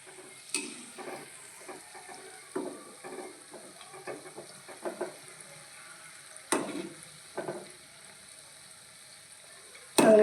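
Gulgule, sweet fried dough balls, deep frying in hot oil, a quiet bubbling sizzle with irregular crackling bursts and a few louder stirring pops spread over the stretch.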